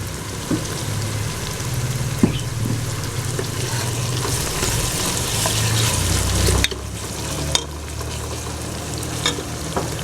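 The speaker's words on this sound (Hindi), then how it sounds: "अभी प्याज़ों को भूनना है।" Loud, continuous sizzling of onions frying in a hot pan, with occasional clinks and scrapes of stirring.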